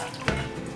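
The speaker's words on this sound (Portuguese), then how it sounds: "Agora nós vamos estar jogando a água fora." Water from soaking potatoes is poured off into a sink, a steady splashing rush with one brief louder gush near the start, heard alone without voices.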